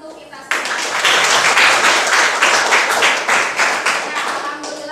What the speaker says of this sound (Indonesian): Silakan tepuk tangan untuk kita semua.